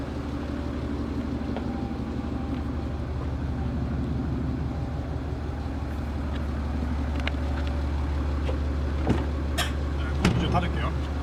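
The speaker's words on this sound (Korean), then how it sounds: "밖에 차 소리가 커서." Steady low rumble of passing traffic and idling engines heard from beside a parked Audi A7 55 TDI sedan, a constant hum with a few sharper knocks near the end.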